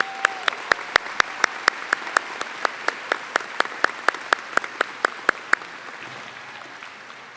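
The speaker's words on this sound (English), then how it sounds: "let's give all of these honorees a round of applause again" Applause for award honorees at a live ceremony comes as a thin, evenly paced series of sharp claps, like a small group or a single pair of hands, tapering off after about six seconds.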